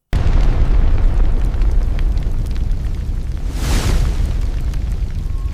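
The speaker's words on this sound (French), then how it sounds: "première explosion." A sound effect for the Chernobyl reactor explosion: a loud, sustained, rumbling blast roar with a brief hissing swell partway through.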